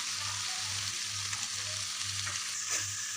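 Beans and cabbage fry in a pan for a macaroni pasta dish, giving a steady close sizzle with a rhythmic low scraping as they are stirred at regular intervals, and nobody speaks.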